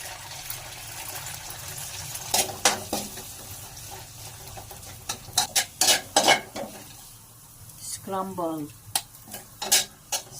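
Eggs scrambled in a pan for pancit canton, steady soft sizzle with a series of sharp spatula scrapes and stirring taps, close and moderately loud, with no talking.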